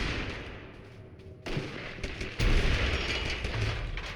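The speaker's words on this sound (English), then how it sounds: "Oh no, that's a cage grenade." A cage grenade goes off in the battle royale game Totally Accurate Battlegrounds, a loud booming burst that swells over dense gunfire-like rumble and keeps thundering heavily to the end.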